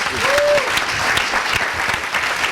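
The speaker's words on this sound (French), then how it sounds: "Acclamation pour les deux équipes." Applause for both teams on a French quiz show, a steady burst of many hands clapping throughout, with a brief whistle-like tone near the start.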